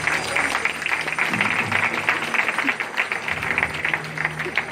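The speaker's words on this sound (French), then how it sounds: "Je voudrais qu'on les applaudisse très fort." Crowd at a stage hypnosis show claps loudly and steadily, dense applause with some shouting or voices mixed in.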